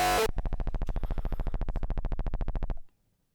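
A 909 kick drum for hardstyle, shaped with EQ dips into a resonant, distorted tone, follows a brief loud burst and then fires in a fast, even roll of about thirty hits before cutting off, loud and alone.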